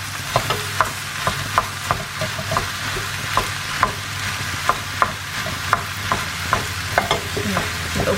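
Beef mince browns in a frying pan, a steady sizzle broken by regular scraping stirs of a utensil, close and alone.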